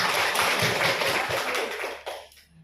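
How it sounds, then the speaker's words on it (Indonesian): A group of people at a school teacher-training session clap their hands together in a dense, steady burst of applause that fades out after about two seconds. "Kita tepuk tangan dulu semuanya"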